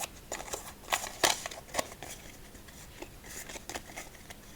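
A small deck of Cards Against Humanity cards is shuffled by hand, giving soft, quick riffling flutters and crisp snaps in a quiet close-up setting.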